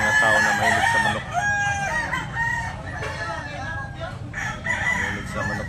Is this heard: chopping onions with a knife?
no